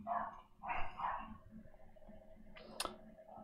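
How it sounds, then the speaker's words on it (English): Indoors, a dog barks a few times at a distance, the short muffled barks clustered at the start, followed by a quieter stretch and a sharp click near the end, with no voices. "Sorry, my dog is barking."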